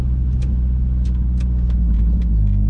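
A Honda Prelude on a road, its steady low engine drone and tyre rumble continuous and close, with faint intermittent clicks and rattles inside the cabin and no talking.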